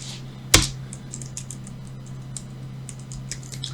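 A single sharp keystroke on a computer keyboard stands out near, followed by faint, soft taps of typing against a low steady hum.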